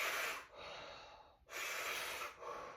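Deep, slow breaths during a stretching exercise with the head turned to look over the right shoulder. Long airy inhales and exhales sound close and full, separated by brief pauses, with no talking.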